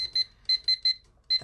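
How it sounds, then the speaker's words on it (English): A small kitchen timer beeps in sharp, high electronic tones, six short beeps in an uneven pattern with gaps between them, close and clear. "This is the annoying timer that doesn't just advance if I hold the button down."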